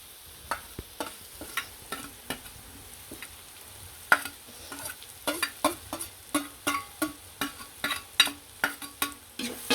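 Chicken kothu frying in a pan, a soft steady sizzle beneath a run of sharp rhythmic clanks and scrapes from a spatula stirring and chopping, quickening toward the end, with no talking.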